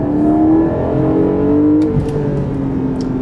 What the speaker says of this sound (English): you get a chance to really hear the engine sing as you ring it out